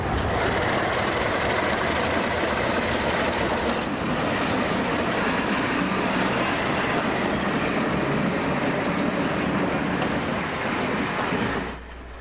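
An Alco RSD-12 diesel locomotive train rumbles past nearby with a loud, dense roar of engine and rolling wheels that holds steady for the whole passage, then drops off abruptly at the end.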